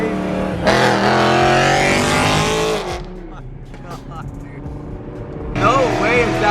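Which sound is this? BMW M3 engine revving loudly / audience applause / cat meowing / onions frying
BMW M3 engine revving loudly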